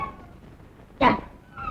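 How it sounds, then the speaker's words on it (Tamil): A cat gives a single short meow about a second in, loud and close, set against a quiet background. "இந்த பூனையை விரட்டுறான்."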